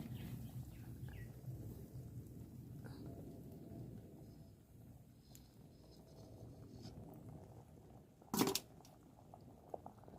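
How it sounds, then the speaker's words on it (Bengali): Rice simmers slowly in a pot on low heat with a soft, steady bubbling that stays faint throughout, broken by a brief sharp clatter near the end. "ভাত দেখো ফুটছে আস্তে আস্তে ফুটছে"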